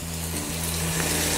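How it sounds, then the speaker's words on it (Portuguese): Onion sautéing in a pan alongside chouriço and bacalhau, a steady close sizzle with a faint low hum running beneath it. "Vamos aqui continuar a refogar a cebola."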